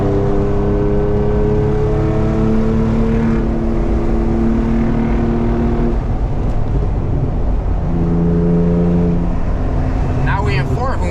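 A very loud BMW E36 drives at speed on a highway, its engine droning steadily with a rising and falling pitch as it accelerates and shifts, and the cabin roar fills the whole stretch.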